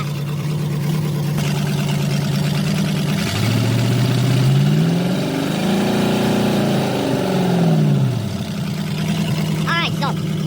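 An engine with a faulty low idle circuit idles with a steady low rumble throughout while someone talks over it close by.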